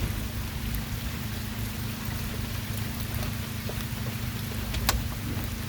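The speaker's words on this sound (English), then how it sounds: "with it raining." Rain falls steadily on surfaces outdoors, an even hiss of drops with a few louder, nearer splats standing out.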